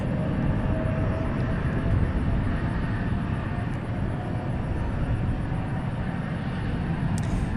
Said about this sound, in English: you have to identify the plane by its engine sound